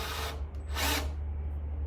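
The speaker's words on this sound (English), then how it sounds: "Not stoked to be drilling these things out as much as I have been tonight." Power drill boring out and enlarging bolt holes in Metalcloak tube fenders during a Jeep Wrangler JLU Rubicon install, a close, steady whirring burst that swells loud briefly over a constant low hum, with no talking.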